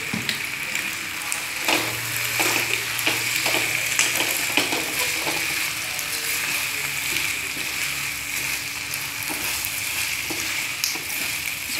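Macaroni with tomato sauce and soy sauce sizzles in a pan while being stirred, with steady frying crackle and repeated scraping stir strokes throughout, close and fairly loud, no voices.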